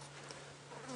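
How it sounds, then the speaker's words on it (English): A fly buzzes close and steady at dusk on a safari drive at Nkuhuma, a faint continuous drone with no talk. "I've got a fly buzzing around me at the moment"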